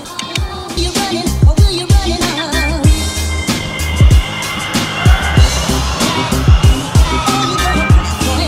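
A Boosted Board 2 electric skateboard runs through its four acceleration modes, sending repeated loud, sharp whining bursts that rise and fall in quick succession close by.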